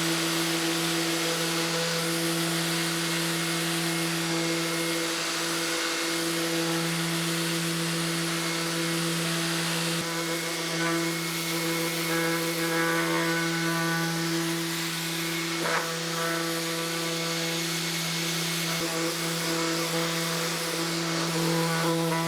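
A Vevor orbital sander works over a wood surface with 60 grit sandpaper, giving a loud, steady motor whine with a constant abrasive hiss that runs without pause throughout.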